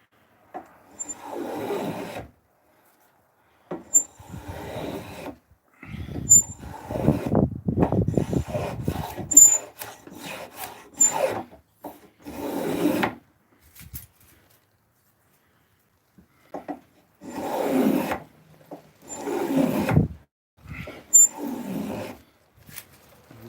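A blade scrapes bark from a length of wood being shaped into a flute, in repeated rasping strokes that come in bursts separated by pauses, close and clear with no talk.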